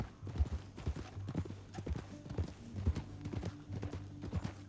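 Horse hooves clip-clopping in Red Dead Redemption 2, a rhythmic walking gait of moderate loudness with an irregular beat, accompanied by low in-game ambience and faint tonal background sounds.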